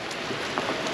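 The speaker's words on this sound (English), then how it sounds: "If you can tell, it's raining today." Steady rain falls on a farm on a wet day, a soft even patter with scattered drops tapping close by, faint and unbroken.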